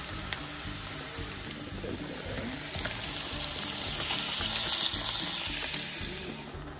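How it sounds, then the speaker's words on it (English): Water hits a hot pan on a stove and sets off a soft, steady sizzle that swells a little and then eases, quiet and close, with no talking. "I added some water to bring it to a boil"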